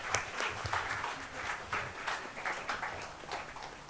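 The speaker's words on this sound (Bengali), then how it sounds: "অরিত্রর জন্য প্লিজ একটা জোরে হাততালি হয়ে যাক।" Concert audience at a musical evening breaks into loud, sustained applause for the sound engineer, with countless overlapping claps forming a thick, continuous roar with slight surges.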